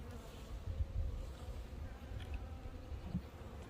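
Honeybees stirring in hive frames on a mild late-winter day, a steady low buzzing hum with a few louder passes close by, heard without any talk.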